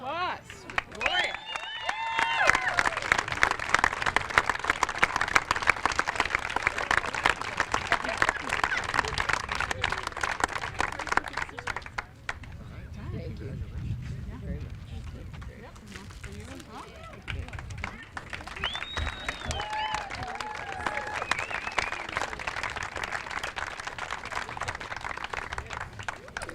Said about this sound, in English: Get a round of applause for Gloria.